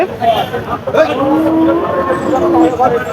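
Cattle low and call at close range at the Chaugachha cattle market, with a few drawn-out moos rising over the busy market background.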